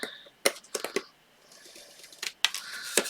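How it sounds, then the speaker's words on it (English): Scissors trimming excess cardstock from a handmade spring floral birthday card, heard as a handful of crisp, close snips in an irregular rhythm with short pauses between cuts. "I'm just going to do it with some scissors."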